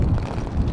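Gusty wind buffeting a microphone outdoors near Mount Rushmore, South Dakota, a steady low rumble that swells and dips through the whole brief moment with no voices.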